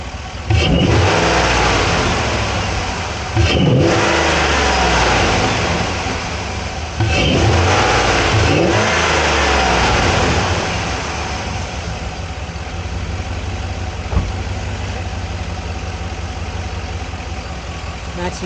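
A 2013 Chevy Silverado fitted with a K&N 57-3070 cold air intake revs hard three times in close succession, each burst rising and falling. It then settles into a steady, rumbling idle, loud and near the microphone.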